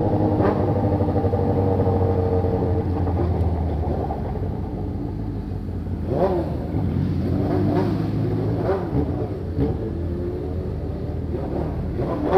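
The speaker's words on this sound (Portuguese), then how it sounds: "Olha o tanto de moto, tio." Motorcycles and cars rumble steadily past on a busy street on Faria Lima in São Paulo, with several engines rising and fading as they pass at moderate distance.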